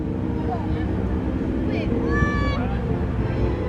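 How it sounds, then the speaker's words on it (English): Vintage aircraft engines rev up for the opening formation at the Flying Circus Airshow in Bealeton, a loud continuous droning rumble with a rising whine on top and people talking nearby. "Revving up the engines, here they go, folks."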